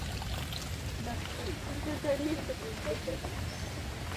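Water runs steadily along an irrigation channel in a Konkan village while a small child plays in it, a constant close rushing and trickling with a few brief splashy accents near the middle.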